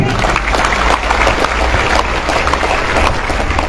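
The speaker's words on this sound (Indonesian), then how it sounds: "Tepuk tangan buat santri." Applause for Islamic boarding school students at a pesantren gathering, a dense steady roar of clapping from a large audience lasting throughout with some crowd noise mixed in.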